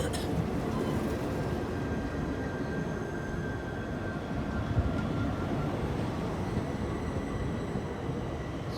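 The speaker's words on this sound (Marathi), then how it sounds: "स्पेशल ट्रेन दिसते" Yesvantpur–Prayagraj special train passing close by on an Indian railway line, a steady loud rumble of wheels and coaches with a faint high tone running through it.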